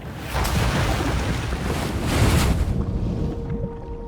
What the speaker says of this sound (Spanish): El barco navega bajo una tormenta que va creciendo en fuerza